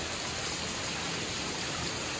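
Steady, dense rain pours down continuously with a broad hiss, close and fairly loud, with no voices.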